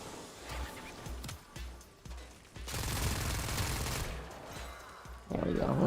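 Rapid bursts of weapon fire while shooting enemies in the video game Warframe, loud and close, with choppy rhythmic shots early on giving way to a sustained dense barrage, under faint speech.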